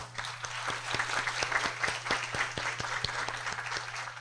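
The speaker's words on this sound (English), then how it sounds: "give in a round of big applause again" Applause from a university lecture audience for the President of Costa Rica, a steady crowd of hands clapping at moderate volume, alone, with a low steady hum underneath.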